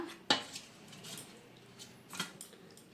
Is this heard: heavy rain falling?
no